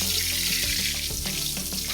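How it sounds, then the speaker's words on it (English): Food frying in hot oil in a skillet, a close, loud, continuous sizzle with small crackling pops, heard alone without talking. "we're just gonna throw these in here, and they're gonna fry up"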